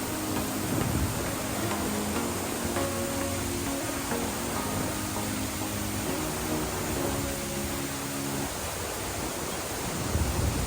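Steady, dense rushing of an urban waterfall at the Dubai Water Canal fills the air without pause, broad and even, with faint tones drifting underneath.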